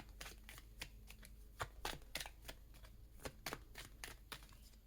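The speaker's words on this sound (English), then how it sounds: "I'm going to get one more card out and we'll get started." Cards handled from a tarot deck, a faint run of quick papery flicks and shuffling taps close by, with no talk.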